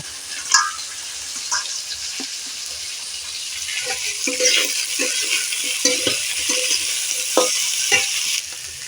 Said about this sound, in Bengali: আলু আর থোর হাফ নাড়া করে নিয়েছি